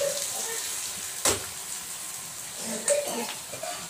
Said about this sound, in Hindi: ये मैं प्याज भून रही हूँ